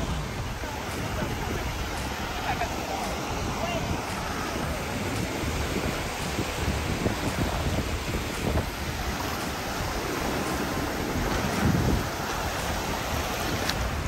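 Ocean surf rolls onto Galveston Beach, Texas, a continuous broad wash of waves mixed with gusty wind noise buffeting the microphone, steady and fairly close throughout.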